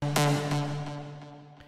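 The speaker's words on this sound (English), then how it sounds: "So the completed synth sound should sound something like this." A plucked synth lead built in Reason, a bright note struck with a sharp attack followed by a few quicker plucks, its sustained tones ringing out into a reverb tail that fades gradually.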